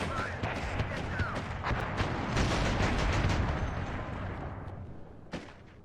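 Soviet machine guns and rockets firing in the WARNO video game, with rapid overlapping bursts and booming blasts that form a dense, continuous battle din.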